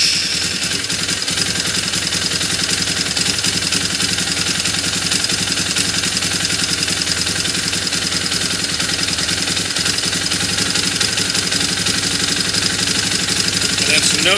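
A 2008 Polaris Outlaw ATV engine runs steadily at idle, a constant close buzzing drone that holds even and loud for the whole stretch with no break.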